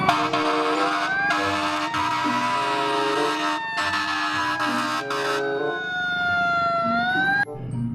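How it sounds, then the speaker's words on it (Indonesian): A wailing fire truck siren in a video game sweeps up and down continuously, loud and close, layered with a second siren tone, with no talking. "wah, yang ini ada mobil pemadam kebakaran"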